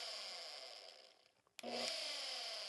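Makita cordless random orbital sander running with a steady high whine that dips and slows briefly, then surges back to full speed with a sharp whirring hum, close and fairly quiet.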